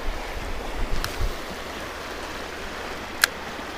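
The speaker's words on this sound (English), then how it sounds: "This current is quite strong, guys." Strong river current rushes over rocks and breaks in the water at a smallmouth fishing spot, a steady broadband wash with a couple of brief knocks near the start and a sharp click late on.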